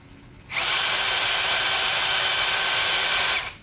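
A cordless impact driver whirs to life and holds a steady, loud high-pitched whine for about three seconds, then winds down.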